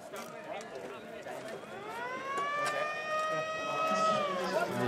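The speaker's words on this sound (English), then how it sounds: "The 2 minute siren is on." A speedway two-minute siren wails at a British Premiership meeting, rising then holding a steady high tone, moderately loud over a background of ambient noise.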